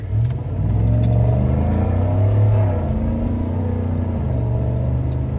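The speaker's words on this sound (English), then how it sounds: "Open the back window for you so you can hear that V8 roar." A GMC Sierra AT4 pickup's V8 engine roars steadily through an open back window, a deep close rumble that swells briefly and holds for several seconds with no talking.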